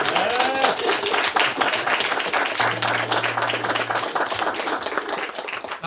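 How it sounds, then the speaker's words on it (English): Audience applause fills an intimate live acoustic concert, a dense, steady wash of many hands clapping at close range that holds for the whole stretch with no pause. "give yourselves a round of applause"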